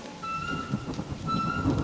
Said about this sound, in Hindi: मुझे तो बारिश बहुत अच्छी लगती है